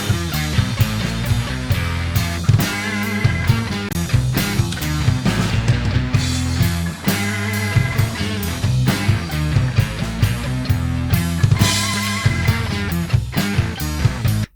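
A dense full-band music track on a master bus, heard first dry and then with reverb switched on, playing continuously with busy rhythmic hits and sustained layers and no talking.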